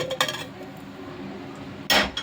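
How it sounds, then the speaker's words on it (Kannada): Thick-cut carrot pieces dropped into a steel mixer jar: a couple of clinking clatters at the start, a quiet pause, then a louder bright metallic rattle as more pieces land. "ಇದನ್ನು ಜಾರಿಗೆ ಹಾಕ್ತೀನಿ."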